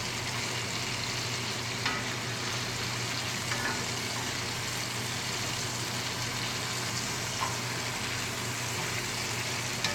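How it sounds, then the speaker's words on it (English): Beef filet sears in a hot pan, giving a dense, steady sizzle that holds at an even level for ten seconds, with a few faint clicks, close-up and without talking. "we want to get a good sear around the whole outside so we can get some crust and some flavor"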